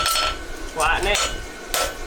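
A farrier flattens a horseshoe on an anvil, striking it in a few sharp, ringing hammer blows spaced unevenly across about two seconds, heard close with no talk.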